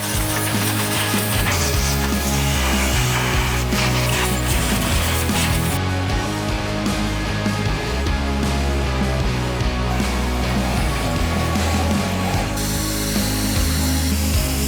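A compact 4-horsepower Metrovac vacuum cleaning debris from a BMW B58 engine bay, a loud, continuous roaring whine held close to the mic for the whole stretch, its tone shifting slightly as the nozzle moves.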